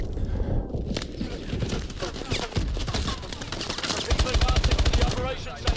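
Automatic gunfire in Call of Duty: Advanced Warfare rattles in dense bursts, with a fast rapid-fire run near the end and a voice speaking over the shooting.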